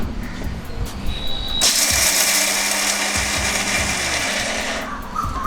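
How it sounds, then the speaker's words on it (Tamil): An electric mixer grinder runs a short burst on peanuts, a loud whirring roar that starts abruptly, holds steady for several seconds and winds down, with clattering before it. "இப்போ அதை வந்து சும்மா ஒரு வாட்டி மிக்சியில் ஓட்டிடலாம் லைட்டாக"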